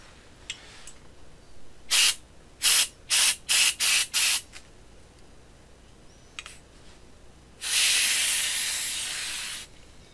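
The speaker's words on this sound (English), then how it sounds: "let's grab the little can of compressed air I do have." Can of compressed air blasting dust out of an Asus all-in-one computer: five short rhythmic bursts of hiss, a pause with faint clicks, then one longer sustained spray that slowly fades.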